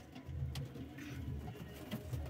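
Pigeons coo softly in low, throaty bursts, a young pair among them, with faint rustling around them and no talking.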